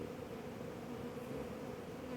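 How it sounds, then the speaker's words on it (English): A carpenter bee buzzes around beehives at a mill apiary, making a faint, steady insect drone with no voices. "Why is there a carpenter in there? He's here and buzzing around there."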